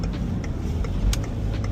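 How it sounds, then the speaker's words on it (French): Traffic on a busy road at around 8 on a Monday morning, with a continuous low engine rumble from passing cars and a slightly louder swell as one goes by, heard from nearby. "Il y a beaucoup de bagnoles, je trouve."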